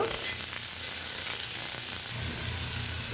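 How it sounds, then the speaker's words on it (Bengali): Chopped onion hits hot oil with bay leaf, whole cumin and slit green chili, giving a continuous loud hissing sizzle with faint stirring underneath, close up and without speech. "কুচিয়ে রাখা পেঁয়াজ দিয়ে দিব। পেঁয়াজটাকে লাল লাল করে ভেজে নেব।"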